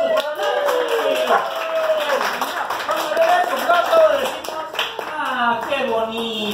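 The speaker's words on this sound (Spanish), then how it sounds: "fuerte los aplausos para Nancy." Guests at an adult birthday party with clowns clapping in quick rhythmic bursts, with voices, singing or music running over the clapping throughout.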